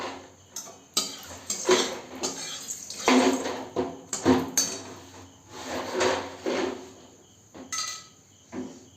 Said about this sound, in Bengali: একটা শুকনো লঙ্কা আর কালো জিরে ফোড়ন।